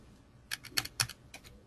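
Fingers tap out a short burst of typing on a computer keyboard while data is entered into a labeling program, about five sharp clicks in quick succession, close and moderately loud with no voices.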